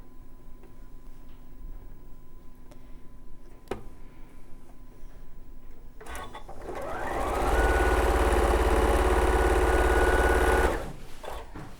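Sewing machine stitching quilt pieces for a quilt kit, a steady fast mechanical whir that starts up after some quiet background and runs loud and close for several seconds before stopping abruptly.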